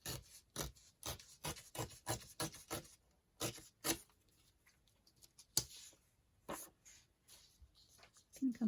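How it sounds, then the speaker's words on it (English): Paper is torn along the edge of a ruler in a quick run of rough, rasping rips, then a pause and a few more short scratchy tears. "I'm just tearing to the edge of my ruler"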